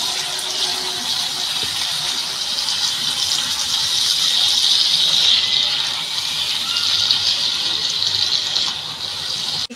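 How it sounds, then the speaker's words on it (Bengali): Onion frying in a pan as it is stirred, a loud, steady sizzle that hisses continuously and close up for the whole stretch. "পেঁয়াজটা একটু নেড়ে চেড়ে নিই।"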